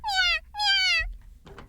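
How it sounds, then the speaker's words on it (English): Edu, a cat in the video game You and Me and Her, meows twice in long, intense, drawn-out cries, loud and close, followed by a brief rustling noise with no talk. "So Edu is meowing really quite intensely, actually."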